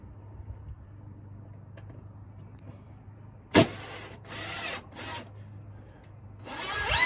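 A power screwdriver driving screws into wood during a home project, several short whirring bursts of a few seconds each separated by pauses, close and loud over a low hum.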